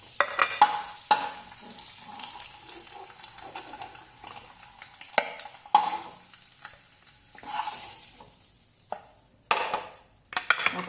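Egg masala fry is stirred and scraped in a pan, with intermittent soft sizzling and sharp spoon-on-metal clinks at irregular intervals, close and fairly quiet, no talking.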